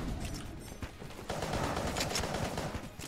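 The Polaris gun in the video game Enter the Gungeon fires in a rapid, dense volley of sharp shots that repeat without pause over a steady, busy game soundscape.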